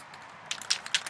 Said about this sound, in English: I'm gonna just start spraying